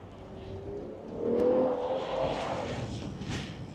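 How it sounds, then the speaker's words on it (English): Cars passing on a road near a cyclist at sunset in North Carolina, a steady whoosh of traffic rising and swelling to a louder pass mid-way, then continuing at moderate level, no talking. "I can hear every car right now"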